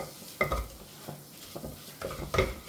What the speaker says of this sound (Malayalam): ഇനി ഇതെല്ലാം കൂടെ ഒന്ന് മിക്സ് ചെയ്ത് കൊടുക്കാം